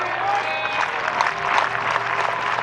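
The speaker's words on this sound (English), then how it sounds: "Hortonville fans chant with their clapping." Baseball fans at a high school championship game chant and clap rhythmically together, a dense, steady crowd roar with applause filling the whole stretch at close range.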